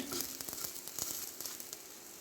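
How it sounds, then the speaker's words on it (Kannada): Grated coconut fries in a pan with curry leaves for a traditional fenugreek kodilu, giving a soft, steady sizzle with small crackles, close and quiet. "ಈಗ ಇದಕ್ಕೆ ತೆಂಗಿನ ತುರಿಯನ್ನು ಹಾಕಿ ಒಮ್ಮೆ ಸ್ವಲ್ಪ ಫ್ರೈ ಮಾಡಿ"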